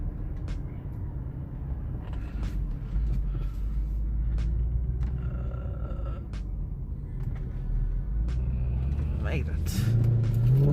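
A 2012 Mercedes C63 AMG W204 with its 6.3 AMG V8 drones in a steady, loud low rumble while driving, the note swelling toward the end as it pulls away, with people talking over it inside the cabin.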